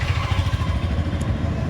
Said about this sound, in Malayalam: പുറത്തത്തെ വണ്ടിന്റെ സൗണ്ട് കൊണ്ട് നിങ്ങൾക്ക് ഞാൻ പറയണ കേൾക്കണുണ്ടോന്ന് അറിയില്ല